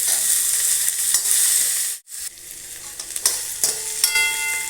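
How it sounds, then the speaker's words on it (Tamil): Onions sautéing in a pan for a Tamil broad bean tamarind curry, a steady close sizzle with a brief drop partway through as they are stirred, then the frying continues. "இப்போ வெங்காயம் நல்லா வதங்கட்டும்."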